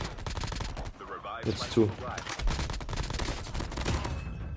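Rapid gunfire from a new gun in the mobile shooter Call of Duty Mobile, with bursts and shots running continuously under a player's talk.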